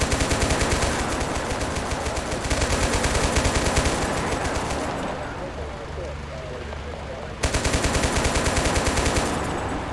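Sustained machine-gun fire in Total Conflict: Resistance hammers in fast, loud, close bursts, briefly thinning mid-clip before resuming, with vehicle rumble and voices beneath.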